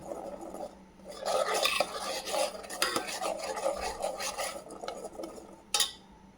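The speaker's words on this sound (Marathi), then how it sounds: "अद्रक लसूणची पेस्ट, मसाला आहे ना तेल सुटेपर्यंत छान भाजून घ्यायचा आहे" Ginger-garlic paste and masala roasting in oil in a pan for chicken rassa, a spoon stirring and scraping with a soft sizzle, close and continuous, ending with a sharp clink of the spoon against the pan.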